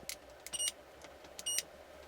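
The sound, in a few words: multimeter continuity test beep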